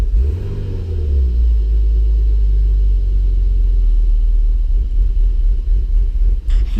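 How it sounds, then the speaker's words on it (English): A 1992 BMW engine idling roughly, a loud, close low rumble that holds steady with slight uneven wavering in its pulse, heard alone. "has a little bit of a rough idle, but it looks like it's doing a lot better than it was"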